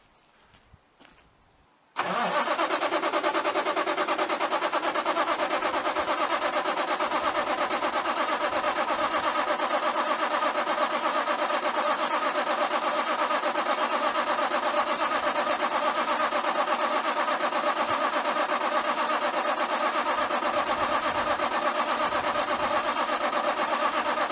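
A semi truck's big diesel engine cranks and roars to life after a couple of seconds of quiet clicks, then settles into a loud, steady rumble that continues.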